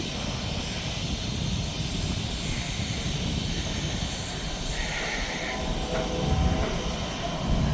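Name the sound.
train locomotive charging its air brake system before moving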